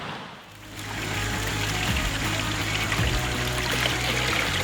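Water pours down from the upper sluice of a gold dredge, a steady, close, full rushing splash that swells in after a brief quiet start and continues unbroken with no voices.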